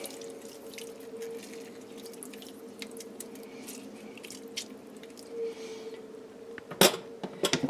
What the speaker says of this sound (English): I'm just going to juice one lime into this.